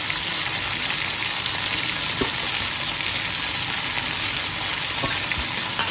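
Curry leaves crackle and sizzle in hot oil on a tawa beside frying spicy fish, a loud, steady, dense hiss with occasional sharp pops and no talking.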